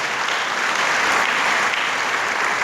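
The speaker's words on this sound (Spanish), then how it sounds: "Déselo al Señor ese aplauso" A church congregation applauds steadily, a dense, continuous wash of clapping from many hands at close range with no break.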